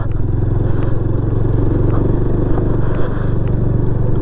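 A motorcycle climbs up onto a road near Talberia dam, its engine chugging in a loud, steady low throb at close range, with faint clattering and scraping from the bike over rough ground.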